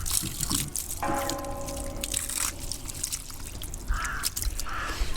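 Hot water is poured from a container, a trickling, splashing stream heard close by among rustling and outdoor background noise, with a brief tonal sound partway through.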